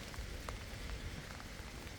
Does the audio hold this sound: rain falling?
yes